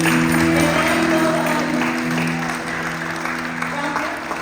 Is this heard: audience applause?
yes